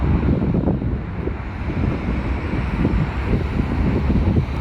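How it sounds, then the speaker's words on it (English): Outdoor wind batters a Google Pixel 4 XL phone microphone, producing a constant, loud, rumbling buffet with gusty surges and no voices. "It is kind of windy right now too, so you might hear some wind."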